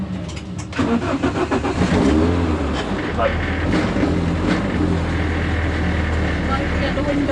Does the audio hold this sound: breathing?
no